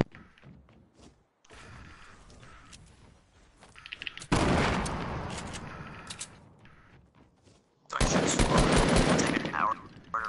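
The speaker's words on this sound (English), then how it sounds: "I would like you to shoot!" Video game gunfire crackles in two loud bursts of rapid automatic shots with softer thuds and movement between them, while players talk.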